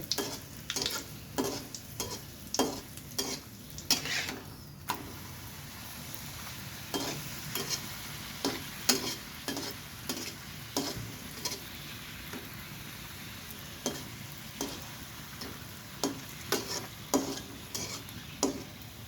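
Luchi frying in a shallow layer of oil, a steady close sizzle broken by repeated sharp scraping and pressing knocks against the pan, with no talking.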